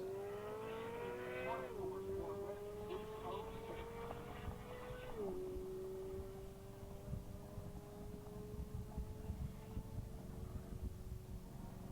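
Distant Corvette Z06 accelerating on a high-speed run, its engine note climbing through gear changes as a faint whine beneath background crowd murmur.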